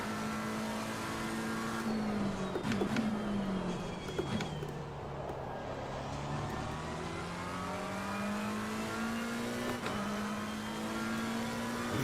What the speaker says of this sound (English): You can hear the car behind me.